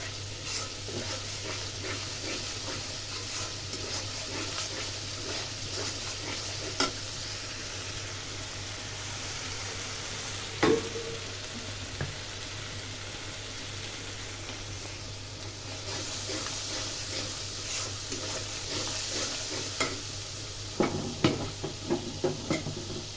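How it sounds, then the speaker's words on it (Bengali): Spinach with potato and flat beans simmering in a pan, a soft continuous sizzle and bubbling with occasional spoon knocks as it is stirred, fairly quiet and steady throughout. "পালং শাক আলু দিয়ে সিম দিয়ে পালং শাক বসাইছি, সিদ্ধ হতে থাকে"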